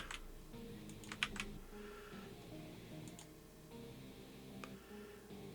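Quick, light keystrokes on a computer keyboard as an email address is typed in, irregular clicks with a few sharper taps, close and quiet with no talking.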